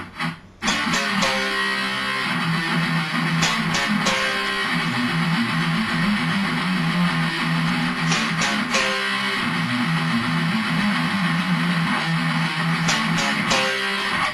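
An electric guitar plays the intro riff, a driving, heavily distorted pattern repeated four times without a break, loud and close for the whole stretch with no talking.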